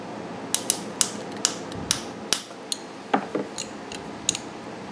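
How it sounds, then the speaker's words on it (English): Clicks and scrapes of a metal hose clamp being tightened on the fuel hose of a Honda EU3000i generator during an extended-run fuel kit install, a series of sharp, close ticks with a few creaks, no talking. "So we're going to go ahead and tighten down this hose clamp."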